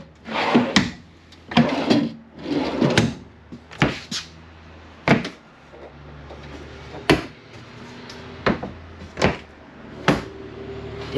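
Drawers in a Keystone Cougar fifth-wheel camper slide open and shut repeatedly, with rolling runners followed by sharp knocks as they close, several times in an irregular rhythm.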